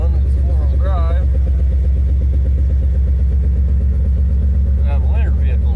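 A Chevy S10 four-wheel-drive pickup idles steadily close by after a cold start in blizzard conditions, its low engine drone loud and continuous, with brief voices over it.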